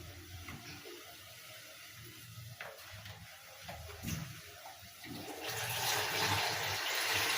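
Water is poured into a cooking pot holding potatoes, peas and bananas, swelling into a steady, close rushing stream after a few quieter clunks.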